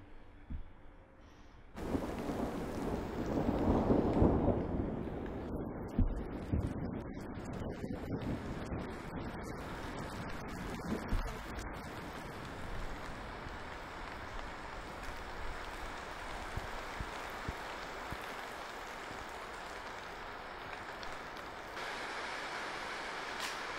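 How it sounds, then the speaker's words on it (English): Heavy rain drums on a roof as a dense, steady roar, with a louder low rumble near the start and some gusty bursts, continuous and fairly distant, with no talking. "the rain is absolutely bucketing down now"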